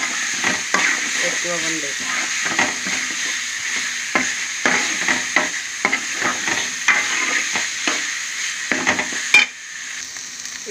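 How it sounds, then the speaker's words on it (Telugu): Onions fry in oil in a pan with rendered fat, a steady near sizzle broken by frequent scraping stirs, while someone talks briefly over it. "ఆయిల్ కూడా ఇది ఉల్లిపాయలు ఉంది కదా, బాగా ఫ్రై అయిపోతుంది."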